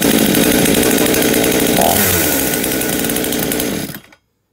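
A chainsaw engine fires up and runs loudly at a steady, buzzing idle for about four seconds, then cuts out abruptly into silence.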